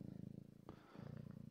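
A cat purrs steadily and close up, a rhythmic rumbling pulse that briefly pauses midway before resuming.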